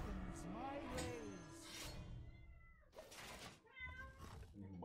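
A cat meows from a card in the Hearthstone card game, several clear meows over busy game music and effects, with brief game sounds between calls.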